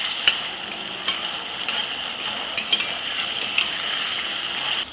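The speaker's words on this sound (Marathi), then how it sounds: "आता बटाटा मी फोडणीमध्ये परतून घेते, आणि मग त्याच्यावर आपण झाकण ठेवूया जरा।" Diced potatoes sauté in a spiced tempering for sabudana khichdi, a steady sizzle broken by sharp scraping and metallic clicks from stirring, with a lid clatter at the end.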